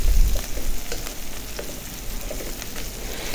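Onions fry with garam masala in a pan, giving a close, steady sizzle with a few soft stirring scrapes over about three seconds and no voices.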